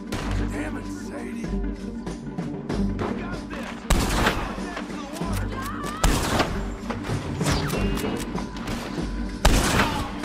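Gunfire in the video game Red Dead Redemption 2, a dense, continuous stretch of rapid shots and heavy booms with louder bursts near four, six and nine and a half seconds, layered over a game soundtrack.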